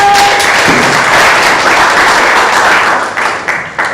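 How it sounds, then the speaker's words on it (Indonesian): Sustained applause from a school audience welcoming the guidance counselor teacher at a vocational high school orientation in Semarang, a dense crowd of clapping lasting several seconds before tapering off near the end. "Tepuk tangan untuk guru BK kita."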